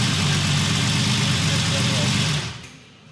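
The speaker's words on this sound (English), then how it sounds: "You can hear that the engine's still tight, that it just stops dead like that." A steady, close idle of a restored 1964 Ferrari 250 GT Lusso engine, a low rumble that cuts off abruptly near the end, leaving near silence.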